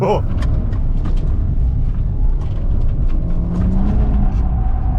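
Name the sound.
cheap used car accelerating through the gears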